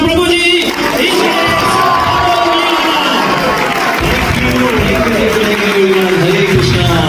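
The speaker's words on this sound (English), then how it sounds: "just a big round of applause for Prabhuji!" A packed audience at a university seminar in Mauritius cheers, whoops and claps loudly, with shouting voices and excited crowd noise filling the whole stretch at close range.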